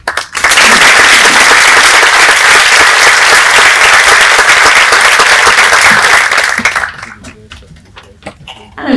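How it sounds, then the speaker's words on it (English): Sustained, loud audience applause at a graduation day ceremony for Erasmus Mundus joint programme graduates, a dense wash of many hands clapping that fades out near the end, leaving scattered claps. "We send our best wishes and offer our applause."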